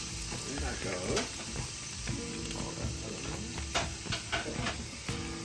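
Half a medium white onion sizzles in avocado oil in a pan over medium heat, a steady close hiss layered with clicks and clattering from utensils and a few scraping sounds.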